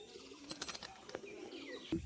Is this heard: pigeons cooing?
yes